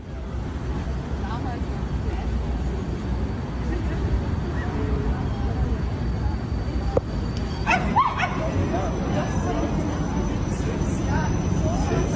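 People mimic dog barking and yipping over a steady hum of background noise, with a couple of louder bursts near the middle; talk is mixed in throughout.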